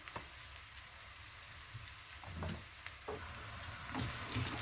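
Onions frying in a pan for Turkish shakshuka, with a steady close sizzle and occasional soft stirring scrapes; no voices.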